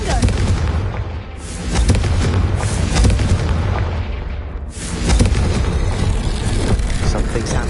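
Confringo blasting spell exploding in Hogwarts Legacy, heard as loud, rumbling booms that swell in two broad waves over a constant crackling roar, with no clear gaps between blasts.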